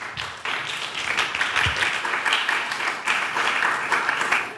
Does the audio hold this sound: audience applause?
yes